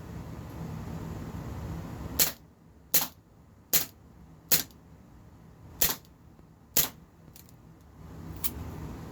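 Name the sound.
Walther PPK/S CO2 BB pistol firing the rest of the magazine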